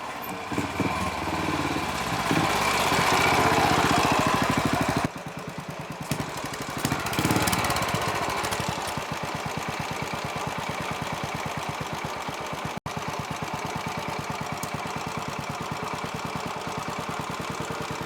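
A repaired 2007 Royal Enfield motorcycle engine runs close by, first with a louder rough burst, then settling into a steady, rapidly pulsing thump-like idle that continues evenly, with no voices.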